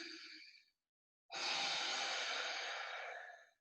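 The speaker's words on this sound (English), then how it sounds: "Deep breathing." Slow, deep yoga breathing: a short exhale, a silent pause, then a long, loud, rushing breath held steady for about two seconds, close up with no talk.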